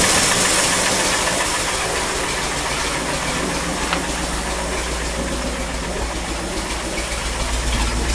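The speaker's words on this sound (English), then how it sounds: "I think I'm going to have to do something with these rocker arms. They're still making noise." An idling 1959 Mercury Monterey engine with a light, rapid mechanical ticking from noisy rocker arms, close up and steady throughout.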